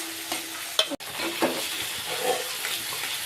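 Ginger paste, cumin paste, turmeric and Kashmiri chili powder frying and being stirred in a pan, a steady close sizzle with scraping stir strokes and a sharp clack near the start, no talk.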